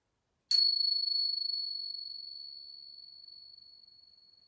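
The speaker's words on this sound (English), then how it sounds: "Listen again for the bell" A single bright bell strike rings out clearly, then sustains a long, pure tone that slowly fades over several seconds.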